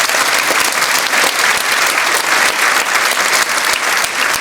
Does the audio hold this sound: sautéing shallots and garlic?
no